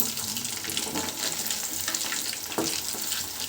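Chicken 65 pieces deep-frying in hot oil give a steady, dense crackling sizzle, close and fairly loud, with one brief sharper pop partway through and no talking.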